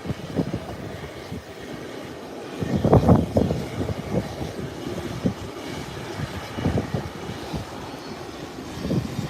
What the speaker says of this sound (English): Private aircraft is at the threshold of the runway and has made its 180 already and now ready to take off